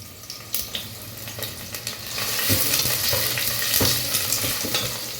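Whole spices, onions and pepper frying in oil for prawn biryani, a steady close sizzle with scattered crackles and a few louder pops that swell midway and keep going.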